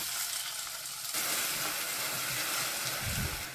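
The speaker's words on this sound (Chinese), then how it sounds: "下入番茄，炒出番茄汁。" Tomatoes stir-frying in oil in a clay pot, a steady close sizzle that jumps louder after about a second, with faint stirring scrapes near the end.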